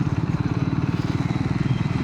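A motorcycle engine, freshly fitted with a new chain, chugs in a steady close pulsing rhythm while being ridden, loud and even throughout with no voices.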